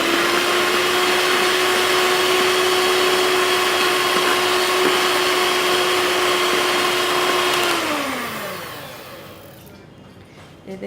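An electric mixer beats an egg into chocolate chip cupcake batter with a loud, steady motor whine. Near the end it slows, the pitch drops and it winds down to a stop.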